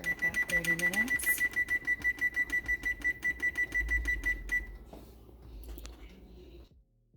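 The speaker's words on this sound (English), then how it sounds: "I'm going to put my timer on for about 30 minutes." A kitchen timer being set for a simmering turkey breast chili, rapid rhythmic electronic beeping and clicking for several seconds, fairly close, before stopping into quieter kitchen sounds.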